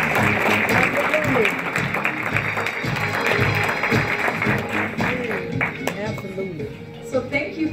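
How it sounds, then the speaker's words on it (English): An audience at an NAACP Freedom Fund event applauds a keynote speaker, a sustained wash of clapping from a crowd, with a voice speaking over it throughout. "Let's give her a round of applause, people."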